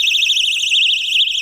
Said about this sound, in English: and the alarm goes off